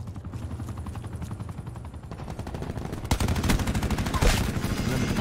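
Rapid gunfire from a helicopter scorestreak in Call of Duty: Black Ops 4, a loud, dense stream of fast shots that grows heavier and more intense partway through, amid battle noise.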